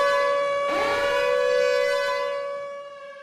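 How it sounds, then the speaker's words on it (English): Tornado warning siren alert from a weather alert system during a required weekly test, a steady loud electronic tone with strong harmonics that rises and swells, then slowly fades, with no talking. "tornado warnings do have the siren"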